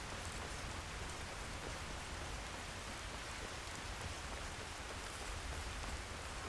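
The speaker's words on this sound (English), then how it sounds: "Well, now it's just raining." Steady rain falls in the video game Skyrim, an even, dense hiss of drops on surfaces that holds at the same level for the whole stretch, with no voices and no other sounds.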